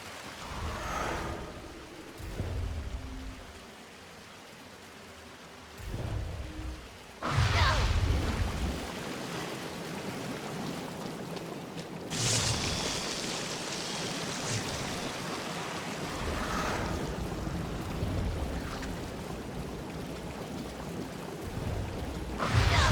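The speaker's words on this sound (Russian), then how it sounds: "Проходим через этот водопад, не намокнув." Rushing water from a waterfall in the video game Dragon's Dogma: Dark Arisen, a hissing wash of noise that swells and fades in several bursts over a quieter ambient bed.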